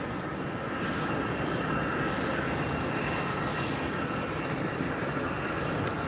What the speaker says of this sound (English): Southwest arrival Flight 3236 coming in from St. Louis next.